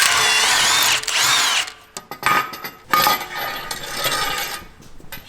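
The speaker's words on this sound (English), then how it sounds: "we can go ahead and remove the tie rod. Gonna need a 21mm socket for that" Power drill or impact tool with a 21mm socket working on a Jeep JL Wrangler steering tie rod, a loud whirring burst for about two seconds, then clanks and rattles of metal parts.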